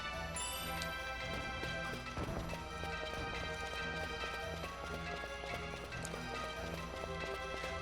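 Rapid rhythmic hoofbeats of a galloping horse in Final Fantasy XII, continuous and close, layered over game music and effects.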